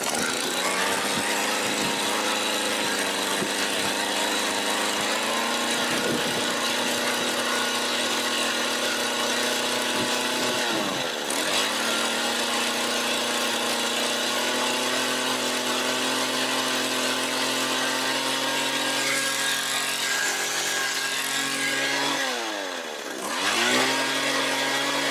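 Small two-stroke engine of a Mac GHT 17 hedge trimmer after a carb rebuild, idling loud and close with a steady buzzing drone and brief dips in pitch, no talking.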